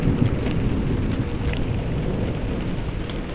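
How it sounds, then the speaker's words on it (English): Rain falls in a steady, dense wash while thunder rumbles low and continuous through the storm, with no voices present. "here comes the rain"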